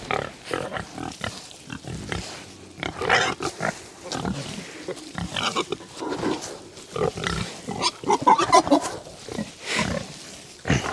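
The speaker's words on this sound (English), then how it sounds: "pigs do eat hay" Several pigs on a small-scale farm grunt and squeal, with close, busy snuffling and chewing in a steady stream of short bursts that continues throughout, as if feeding on hay.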